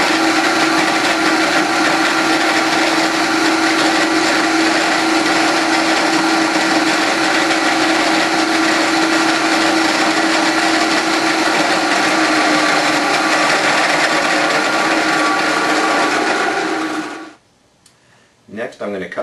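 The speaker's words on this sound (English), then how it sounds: "I'll drill the holes in the cap larger to be clearance holes for the screws." A power drill whines steadily at high speed for a long stretch while drilling clearance holes in the wooden cap of an organ pipe, then spins down and stops, leaving a few faint clicks.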